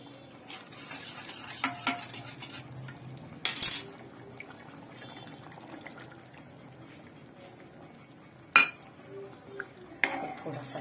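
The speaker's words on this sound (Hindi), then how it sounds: "थोड़ा सा चलाएंगे हम" A spoon stirs potato curry in a pot after gram flour batter is added, producing soft scrapes and occasional sharp clinks of metal against the pot, with quiet bubbling and rustling between the strokes.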